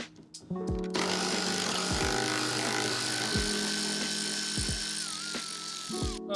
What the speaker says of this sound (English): Have a go on the new power tool.